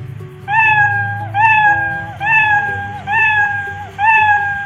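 A cat meow sound effect from a Scratch animation plays five times in a steady repeating rhythm, each call rising then falling, loud and close over a low background hum.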